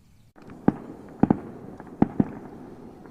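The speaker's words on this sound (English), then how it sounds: "Somebody's a little early with their fireworks." Fireworks pop in the distance on a Fourth of July evening by a fishing spot, with several sharp separate bangs, a couple coming in quick pairs, over a quiet outdoor background.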